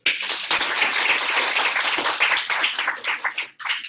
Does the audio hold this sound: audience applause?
yes